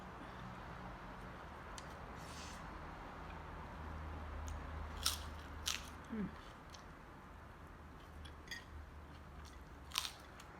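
Someone eating sago dumplings filled with pork, with a few soft, close bites and crunchy chews scattered over a quiet background and no talking.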